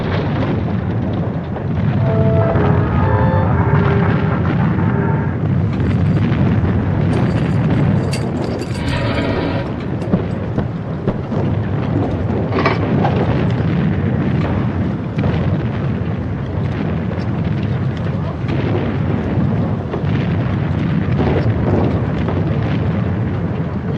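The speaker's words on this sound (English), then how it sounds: "it's our own guns shooting at us" Artillery fire in a First World War battle, with guns firing from both sides: a dense, continuous roar of heavy booms and rumbling blasts, loud and sustained throughout, with no voices.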